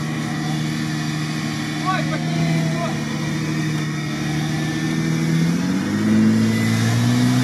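An off-road vehicle's engine hums and rises steadily in low-range first gear as it pulls away over rough ground, a continuous mid-pitched drone that climbs in pitch near the end, with people talking over it.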